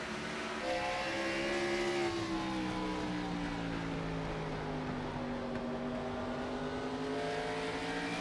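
Race cars circling a short-track oval at 5 Flags Raceway during a Tuesday night race, engines droning in sweeping, shifting tones from mid-distance, steady and moderately loud throughout.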